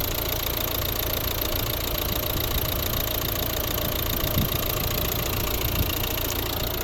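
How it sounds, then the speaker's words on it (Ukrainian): Close-up idle of the 1.6 diesel engine in a 2012 Volvo V60 Ocean Race, a constant rattling hum held without change throughout, no voices. "Ось робота двигуна."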